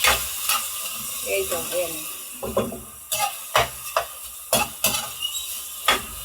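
Pork fries and sizzles in a pan while a spatula stirs it with repeated sharp scrapes and clacks, loud and close, under brief talk.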